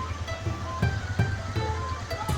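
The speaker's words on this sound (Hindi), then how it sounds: "इतना ठंडा पानी होता है और पानी का इतना शोर है" Steady broadband wash of a cold mountain river rushing near Kohala on the road from Rawalpindi to Muzaffarabad, a continuous roar with faint intermittent clicks and knocks layered over it.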